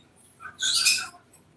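Pet birds in a Kentucky home give one short, bright chirping call at close range. A single squawk swells up in a brief burst, with quiet room tone before and after it.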